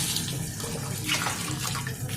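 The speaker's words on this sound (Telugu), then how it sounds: "ఇదిగోండి ఒక 2 స్పూన్లు వాటర్ వేస్తాను" Water is poured into a rasam pot holding tamarind, a steady near splash and trickle running for a couple of seconds with no talk.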